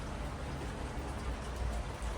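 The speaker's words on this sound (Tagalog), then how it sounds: "Umuulan pa yan, ah." Rain falls steadily near a world's-shortest, steepest cable car on an outing in the USA, a continuous broadband hiss that holds evenly throughout with no talk.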